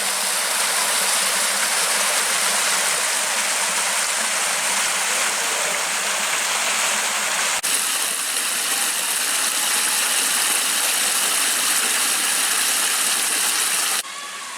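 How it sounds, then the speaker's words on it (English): A small waterfall pours under a bridge on a countryside walk in Hampshire, a steady, dense rushing splash that stays loud and even throughout, heard close up. "Ah, a little waterfall under the bridge."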